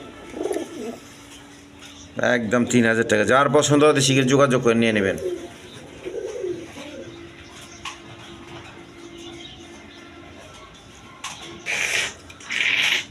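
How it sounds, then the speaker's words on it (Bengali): Big-size Indian Kaldom pigeons coo softly and low in the background while someone talks over them, with a few brief bursts of other noise near the end. "একদম বিগ সাইজের দেখার মতো কবুতর"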